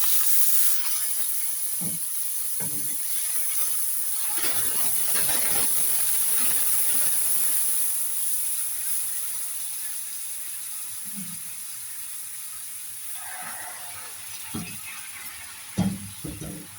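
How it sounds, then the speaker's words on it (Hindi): Milk poured into a hot pan of roasted vermicelli for sheer khorma, giving a steady loud hiss and sizzle that slowly fades, with faint stirring clicks and a few light knocks near the end. "अब मैं इसके अंदर थोड़ा सा दूध डालूंगी।"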